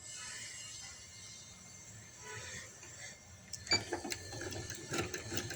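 Sewing machine stitching the hem of palazzo pants, a quiet mechanical hum that turns into a louder, clicking, rattling run of stitches partway through.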